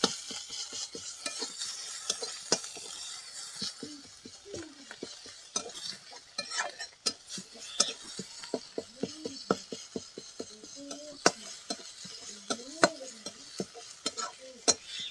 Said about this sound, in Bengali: আদা রসুন ভালো করে ভেজে নিয়েছি